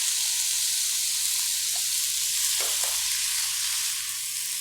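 Tomatoes are stirred into ground turkey in a hot pan, with a loud, constant sizzling hiss and a few faint scrapes of the spoon.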